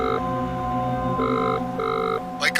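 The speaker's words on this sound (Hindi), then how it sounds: "तो जा, कमल बनकर इस फोन से कल्लू को फोन करो, देखते हैं क्या कहता है।" A telephone rings over a speakerphone in a tense crime-drama scene, its steady electronic ring pattern repeating in bursts above a low musical bed, with a sharp sound effect hitting at the end.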